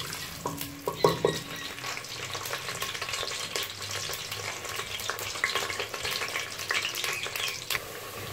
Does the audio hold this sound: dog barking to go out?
no